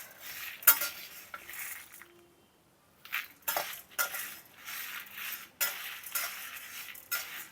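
Dry chillies stirred in a dry pan for fish fry masala: scraping and clinking of a spoon against metal in repeated bursts, with a faint sizzle and a brief pause midway.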